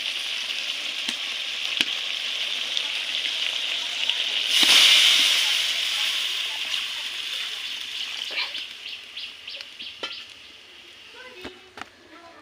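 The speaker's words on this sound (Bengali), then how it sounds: "এখন আমি এর মধ্যে জল দিয়ে দেবো।" Water poured into a pan of sizzling, oil-released mutton curry sets off a loud hissing burst that swells and then settles into gentle bubbling with a few stirring clinks.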